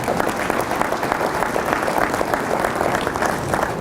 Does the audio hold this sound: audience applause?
yes